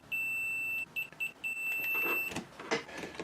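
A multimeter with low batteries emits a steady high-pitched beep that breaks into a few short stuttering beeps, followed by clicks and rustling handling noises nearby.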